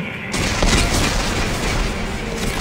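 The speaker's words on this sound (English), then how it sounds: "Computer, arm explosives, and" Explosives detonate in Dead Space 3, opening with a sudden heavy boom that rolls into a sustained, dense roar of rumbling blast noise that stays loud throughout.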